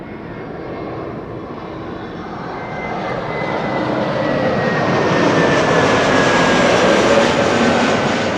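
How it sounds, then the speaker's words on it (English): A year-old JetBlue A321neo arriving at Amsterdam Schiphol on a sunny day from Boston roars with a broad, swelling engine rush that grows louder as it nears. A faint whine runs through the noise, and no one speaks. "JetBlue flight 631 A321neo arriving from Boston, Massachusetts."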